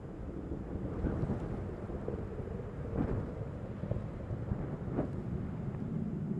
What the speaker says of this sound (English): 50 seconds into the flight, the engines beginning to throttle back up